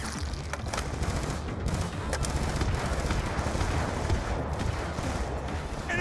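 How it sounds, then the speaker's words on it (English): Rapid gunfire crackles through a Call of Duty Black Ops 2 firefight, dense overlapping shots and bursts forming a continuous loud barrage with sharp cracks standing out near the start. "Taking sniper fire from the catwalk!"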